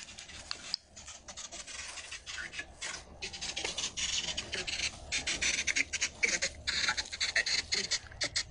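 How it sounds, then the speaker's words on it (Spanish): A Spirit Box radio sweeps through static during a paranormal exploration in a cemetery, giving choppy, rasping bursts of noise that cut in and out rapidly and grow busier toward the end. "prende el Spirit Box otra vez, Roberto"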